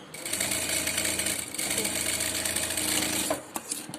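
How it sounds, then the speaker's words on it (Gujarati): A sewing machine runs in a steady continuous whir as it stitches a doubled-over fold of net fabric, close and loud, then stops and gives a few short clicks near the end. "નેટને બેવડું વાળી દેવાનું છે આવી રીતના અને અહીંયા સિલાઈ લગાવી દેવાની છે"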